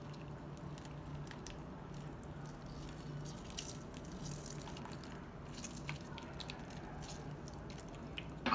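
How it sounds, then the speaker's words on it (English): Fresh lemon juice is squeezed onto ginger, making faint, close wet squishes and small drips against quiet background hiss, ending in a sharper handling noise. "Put the lemon juice."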